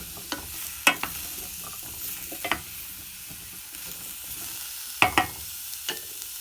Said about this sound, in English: Let's give it a little stir so the vegetables are coated with the butter.